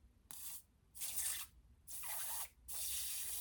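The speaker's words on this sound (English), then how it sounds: "I need to do my setting sprays." Four bursts of makeup setting spray hiss out in quick succession, each a bright misty spritz lasting about half a second with short pauses between, close and fairly loud with no talking.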